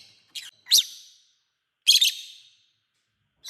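Young pet birds raised by hand give sharp, high chirps in short bursts: a pair of quick calls, a cluster a second later, then another beginning, each separated by silence.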